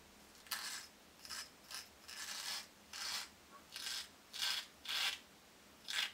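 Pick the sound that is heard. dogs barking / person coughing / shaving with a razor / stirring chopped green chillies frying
shaving with a razor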